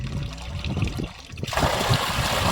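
Water gushes from a 4-inch pipe fed by a 5 HP solar-powered mono block low-speed pump, a steady, noisy rushing flow that grows louder and fuller partway through.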